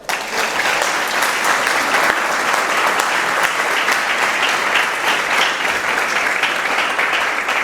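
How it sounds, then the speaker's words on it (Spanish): Sustained applause from a church congregation, a dense, even wash of many hands clapping that holds steady and loud throughout. "¿Usted le puede dar un aplauso al Señor?"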